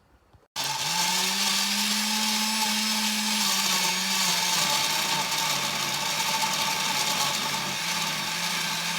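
A blender whirs steadily as it purées soup, switching on abruptly after a moment of quiet and holding a loud, continuous motor drone with a slight pitch dip midway.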